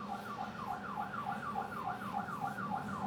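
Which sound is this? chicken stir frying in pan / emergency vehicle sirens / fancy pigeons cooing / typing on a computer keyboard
emergency vehicle sirens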